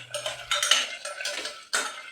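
A ladle scrapes and clinks against a metal pot while stirring tomato rice, in short irregular strokes with a sharper knock near the end; close and quiet, no talking.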